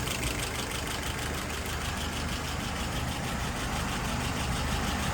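A car engine idles steadily at about 680 rpm, a constant close, even hum with no talk over it.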